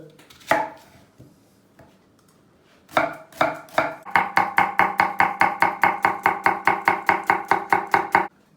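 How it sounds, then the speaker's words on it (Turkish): A knife taps a cutting board, a few scattered chops first, then a fast, even run of crisp strokes chopping an onion finely for lentil soup. "Soğanı bir doğrayalım. Çok ince bir şekilde."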